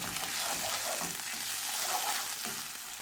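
Cumin seeds and ginger frying in hot oil in a pan for samosa filling, giving a continuous, close, steady sizzle with faint crackles and no talking.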